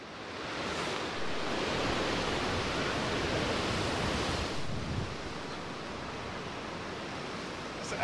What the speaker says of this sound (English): as you can hear, the wind is very hard still